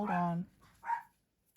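Dogs at home making a short barking yip followed by a softer second bark, fairly close and moderately loud, then quiet.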